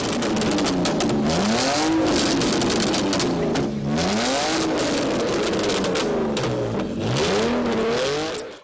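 Drift car engines rev hard and continuously, rising and falling in pitch over a loud rumbling roar, with crackling exhaust pops throughout.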